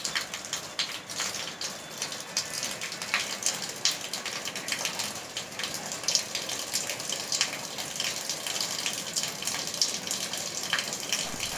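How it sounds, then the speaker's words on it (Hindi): Water overflowing from a full rooftop tank pours down steadily in a continuous splashing rush, like heavy rain on a hard surface, close and moderately loud with no voices throughout. "ऊपर टंकी में पानी भर गया है तो वो नीचे गिर रहा था, इस वजह से ऐसी आवाज़ आ रही थी"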